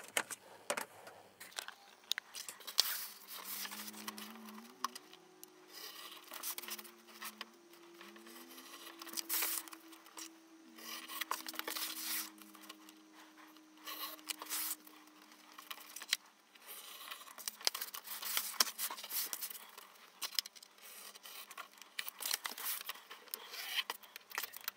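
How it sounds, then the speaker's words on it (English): Scissors or a blade cut bookbinding cloth turn-ins at a board corner, a quiet close series of snips and rubbing sounds over a faint background hum, with no speech. "So once I know where that diagonal cut's going to go to, I will cut the turn-ins."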